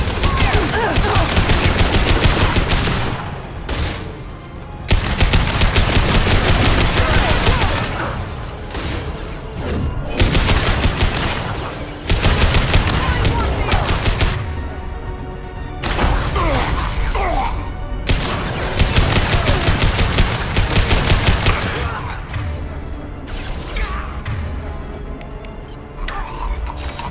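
Sustained gunfire and crashing impacts from a Mass Effect 2 battle, loud and dense for most of the stretch with brief lulls, mixed with game music and shouted combat voices.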